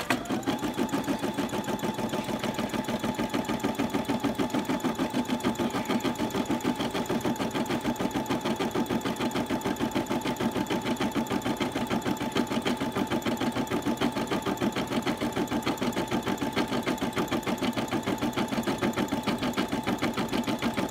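A home sewing machine runs continuously while stitching an adult shirt, a loud, even, rapid mechanical whirr and needle chatter that holds steady for the whole stretch with no pauses or voices.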